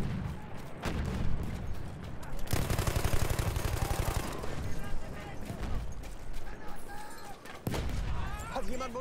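Weapon fire in the video game Battlefield 1, with bursts of rapid gunshots and distant battle noise mixed with game sounds and someone talking over them.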